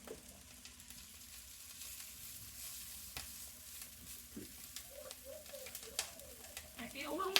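Bacon grease sizzling in a hot frying pan, a steady crackling hiss with scattered pops and stirring scrapes that grows busier toward the end; no talking.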